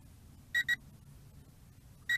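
Two quick pairs of high electronic beeps from a Potensic D58 FPV drone in flight, a short double chirp near the start and another at the end, over faint low background hum.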